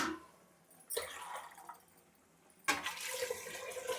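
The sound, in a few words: water poured into pot for biryani rice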